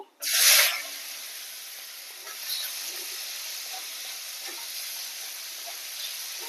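Chopped onion hits hot fish oil with black cumin, bursting into a loud, bright sizzle that quickly settles into a steady, close frying hiss with faint stirring.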